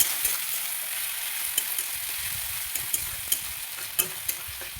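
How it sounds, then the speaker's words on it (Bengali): Chopped onion frying in a pan with a pinch of salt, a continuous bright sizzle of oil at close range, broken by a few sharp taps of a spatula against the pan. "পেঁয়াজ কুচিটা ভালো করে ভেজে নিতে হবে।"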